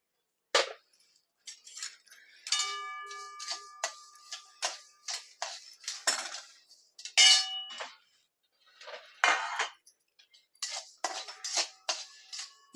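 Mustard seeds dry-roasting in a pan for amla and green chilli pickle make bursts of sharp ticks, clinks and metallic scraping as they are stirred, close and fairly quiet, with short pauses between strokes.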